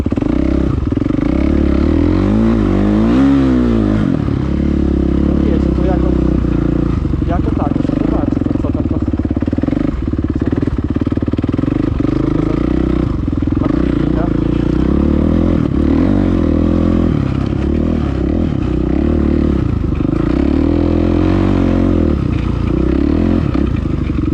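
A Kawasaki KXF450 motocross bike being ridden, its engine revving and droning loudly and continuously with rising and falling pitch, rattling clatter and wind buffeting, and a rider's voice heard now and then.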